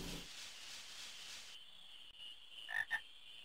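Frogs in Final Fantasy 9 give two quick croaks near the end, after a soft hissing ambience that shifts partway through; fairly close and moderately loud, no talking.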